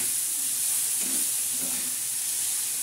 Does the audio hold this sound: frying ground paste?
yes